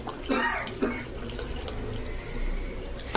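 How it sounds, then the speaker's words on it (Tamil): Tamarind water pours into a pan of egg curry, giving a splashing liquid gush with a few sharper splashes at the start and a final clink near the end, close and clear with no talk. "இந்த புளி தண்ணி கரைச்சி வச்சுருக்கிறேன், இது போட்டுக்கலாம்."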